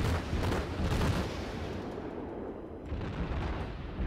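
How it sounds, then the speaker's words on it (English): Naval gunfire in the World of Warships game, as a dense rumbling barrage of booms and blasts that rolls continuously with no pauses. "Shots coming in from the side."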